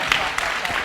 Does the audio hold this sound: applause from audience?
yes